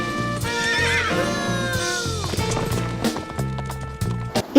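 In a Backyardigans cartoon, a horse gives a long, loud whinny while its hooves beat in a rapid gallop beneath a music score, ending in a heavier thud as it leaps a river.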